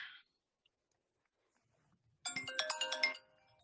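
A mobile phone ringtone goes off during a talk on protesters' rights: a bright melodic burst lasting about a second, close and fairly loud, ringing alone in an otherwise quiet room.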